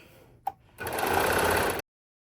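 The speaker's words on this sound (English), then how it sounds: "laying those seams, one to the left, one to the right, and then serging it down" A Baby Lock serger stitches down the corner seams of a standing flat-bottom zipper pouch in one steady, close burst of about a second, preceded by a brief click.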